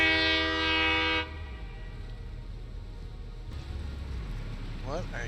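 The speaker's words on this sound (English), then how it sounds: "What's this train waiting on?" A train in the video game Satisfactory sounds a loud, sustained horn blast that cuts off after about a second, leaving a steady low rumble of rail machinery; a voice briefly speaks near the end.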